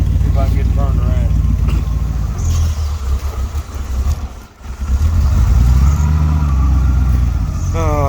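A 1978 Dodge van engine idles and revs loudly up close while backing in and turning around, rising and falling with throttle, a brief dip midway, with people talking over it.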